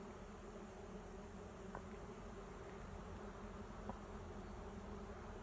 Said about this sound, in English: there are thousands of bees around me right now